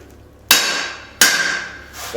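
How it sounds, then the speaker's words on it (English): Two loud, ringing hammer blows strike hot steel held in a blacksmith's guillotine tool while forging a candle holder, each sharp impact followed by a long metallic decay. "I'm going to use the guillotine tool to neck down the material just under the"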